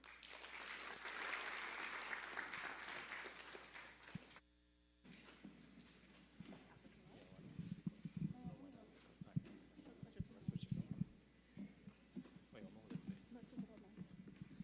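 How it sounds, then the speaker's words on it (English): An audience applauds Minister Robinson-Regis at an HDC event in Trinidad and Tobago: dense, even clapping fills the first four seconds, cuts off, then a voice talks over faint scattered claps. "One more round of applause for Minister Robinson-Regis."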